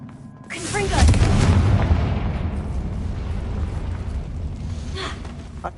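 A Confringo spell blast in Hogwarts Legacy goes off as a loud deep boom that swells after a short buildup, then rumbles and fades slowly with a smaller burst near the end.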